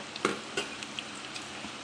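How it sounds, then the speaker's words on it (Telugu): Onions fry lightly in a pan for tomato rice, giving a soft, steady sizzle with a few brief stirring scrapes, heard close and alone without speech. "ఇప్పుడు ఆనియన్ కూడా బాగా ఫ్రై కావాలి"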